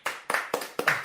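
Five separate bursts of clapping at a comedy awards show, each a short loud flurry that fades before the next, more like a few people applauding on cue than a large crowd.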